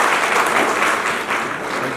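Audience applause at a college zonal youth festival prize announcement: a dense, steady burst of clapping from a large crowd, loud and continuous without talk.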